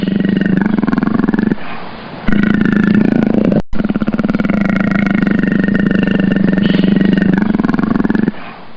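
A leopard's deep, rasping roar, repeated in long grunting, sawing bursts with a short break midway, loud and close with no other sounds.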